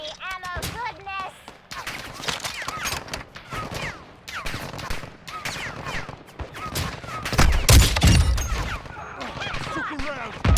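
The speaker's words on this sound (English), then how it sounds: "Taking fire over here." Dense bursts of automatic gunfire and rapid shots in Call of Duty, loud and continuous with heavier blasts near the end, while players talk over the action.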